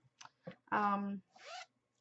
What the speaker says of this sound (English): And my little zipper tabs, oops, my little zipper tabs. I love my little zipper tabs.